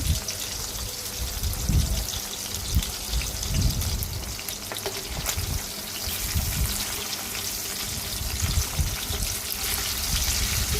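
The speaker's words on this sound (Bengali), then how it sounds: "এই চুলায় আমি তেলাপিয়া মাছগুলো ভেজে নিব" Tilapia fish frying in hot oil on a stove, a steady close crackling sizzle with soft bubbling pops, continuous and fairly quiet with no talk.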